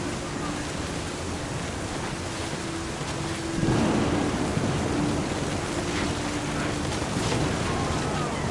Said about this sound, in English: The thunder sounded much too close and full of angry power.